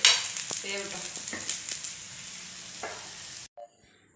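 An akki roti, a Karnataka rice-flour flatbread, cooks on a hot pan with a close, continuous sizzle and a few faint scraping clicks, ending in a sudden drop to near silence.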